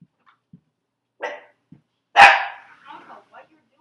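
A dog gives one loud, sharp bark at close range, set among softer yips and small whimpering sounds from the dogs at home, with gaps of quiet in between.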